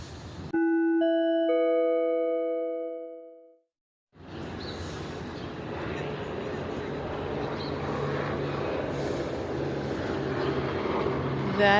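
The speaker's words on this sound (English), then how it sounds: "That is a helicopter flying to my right." A helicopter flies overhead at Los Angeles Union Station in the morning. A multi-note electronic chime sounds first, then after a brief silence a steady, broad roar of rotor and engine noise mixes with station ambience.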